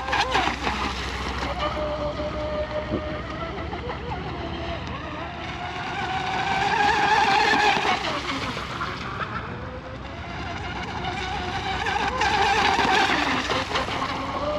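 A J&R Marine H26 RC boat with a modified hull runs into the wind on open water, its motor whining steadily and swelling louder as it passes closer, with a voice speaking over it.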